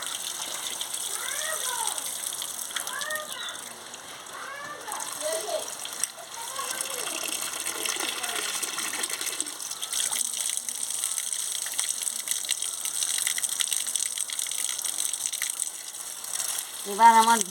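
Water runs steadily from a tap while potatoes and ridge gourd are rinsed in a kitchen, a continuous hissing gush throughout, with a person speaking over it at times.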